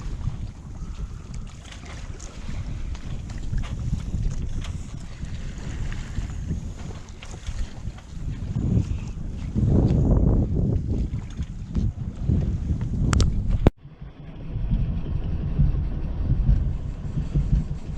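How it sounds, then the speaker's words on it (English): Sailboat under way at night, with a continuous rush of wind across the microphone and water sloshing along the hull, swelling louder near the middle before a brief cut and a steadier stretch. "So very nice night sailing."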